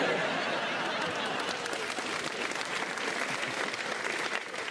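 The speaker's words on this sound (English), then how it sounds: "thanks everybody for clapping" Dense, steady applause from a comedy club audience, a full room clapping continuously at close range with no talk over it.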